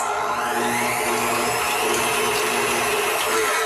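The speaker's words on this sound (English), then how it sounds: "I'm using the whisk attachment, so we're just going to turn that on and we're going to beat these eggs." A stand mixer fitted with a whisk attachment beats eggs in a kitchen, giving a loud, steady motor whir with a constant rattling texture that runs unbroken from start to end.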